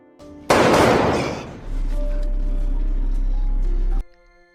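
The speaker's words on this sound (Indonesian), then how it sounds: "tiba-tiba saja dia mendengar suara tembakan dari luar" A sudden loud blast of gunfire bursts in, then fades into a low rumbling hum that cuts off abruptly.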